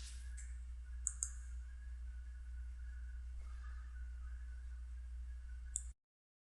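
Computer mouse clicks, a few short sharp clicks spaced apart over a steady low hum, faint and close.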